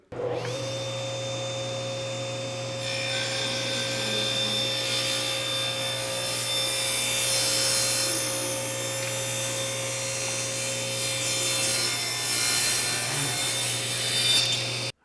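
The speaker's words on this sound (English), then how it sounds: "start off just by working with some hard rock maple and just start cutting some strips" A table saw fitted with a micro kerf blade rips thin strips from hard rock maple, a steady, loud whine and rasp that holds for the whole stretch and swells slightly mid-cut, with no talking.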